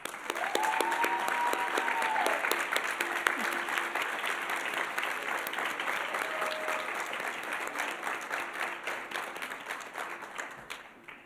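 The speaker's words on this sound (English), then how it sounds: "let's give them a round of applause" An audience at an awards ceremony gives a sustained round of applause for a newly chartered sorority chapter, the dense clapping holding steady before slowly thinning out.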